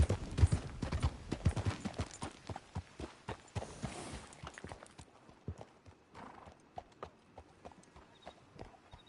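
A starving horse in Red Dead Redemption 2 clip-clops at a steady walk, hooves striking in an even rhythm, with a brief whinny near the start and faint background ambience.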